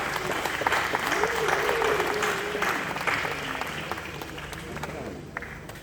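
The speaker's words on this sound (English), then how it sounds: "with a huge round of applause, let's welcome Mr. David Fonkinos" A large audience applauds loudly and steadily to welcome French bestselling author David Foenkinos onto a stage, a dense wash of clapping that fades slightly toward the end with voices mixed in.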